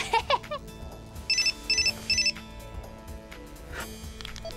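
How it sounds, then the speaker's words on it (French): A mobile phone text message alert in a French cartoon: three quick bursts of bright electronic beeping, each a pair of tones, sounding close and clear after some earlier brief noises, with no talking. "Un texto."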